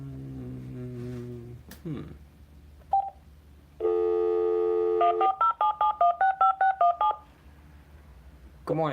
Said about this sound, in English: So let's give She Powerland a phone call and see what happens.